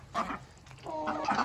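A Denizli rooster in a garden tent coop gives short, strained crowing calls, two bursts close by.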